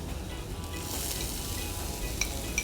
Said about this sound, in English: We'll add the onion, chopped onion.